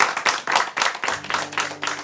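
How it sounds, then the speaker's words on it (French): Applause from a studio audience on a French late-night show, greeting the accompanying guitarist: a short burst of rhythmic clapping with a few distinct hand claps, close and fairly loud, with a faint musical tone entering near the end. "Merci de l'applaudir"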